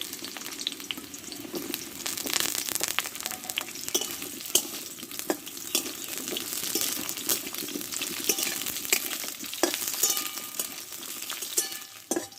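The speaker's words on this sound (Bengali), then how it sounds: "এ পটলগুলো কষে নেব তেলে" Pointed gourd being stir-fried in white cooking oil sizzles and crackles steadily throughout, close and fairly loud, with occasional sharper pops and scraping stirs.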